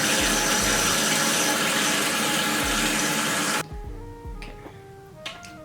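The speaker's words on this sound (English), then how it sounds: "I'm just gonna put a bit of water on my face first" A bathroom tap gushes steadily and loudly into a sink, then shuts off abruptly, leaving faint splashes and dripping as water is put on the face; no talking.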